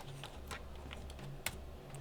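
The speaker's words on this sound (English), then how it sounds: "All right, keyboard's working correctly now." A laptop keyboard on a machine under repair gets a short burst of typing, irregular key clicks close by with one sharper tap near the middle, over a faint hum.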